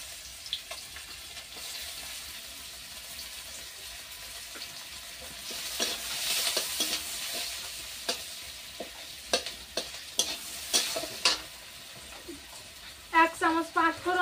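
Chopped onion and garlic frying in oil in a pan give a steady close sizzle. Stirring clatters in now and then, and a short burst of voice comes near the end.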